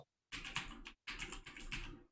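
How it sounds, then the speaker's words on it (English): Rapid keystrokes on a computer keyboard, two close bursts of dense clicking separated by a short pause, fairly quiet with no talking. "I am typing that in now."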